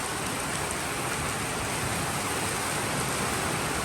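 Heavy rain pours steadily onto a flooded street, a dense, continuous roar of water hitting pooled water and pavement with no pauses, loud and close throughout.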